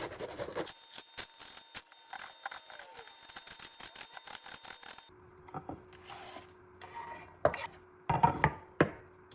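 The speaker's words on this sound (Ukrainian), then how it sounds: "Салат айсберг я візьму одну четверту частину. І ізмільчу максимально мілко." Iceberg lettuce is chopped finely with a knife on a board in a quick run of crisp, rapid strokes, followed by slower, louder individual cuts near the end.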